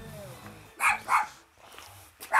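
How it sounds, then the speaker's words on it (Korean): A farm dog barks in greeting at a neighbouring farm in Geumsan, South Chungcheong: two loud close barks, a pause, then another sharp bark, with faint background noise between them. "이게 반갑다고 짖는 거지 너."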